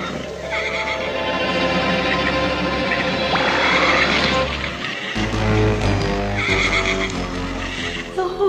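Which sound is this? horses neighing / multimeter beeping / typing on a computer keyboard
horses neighing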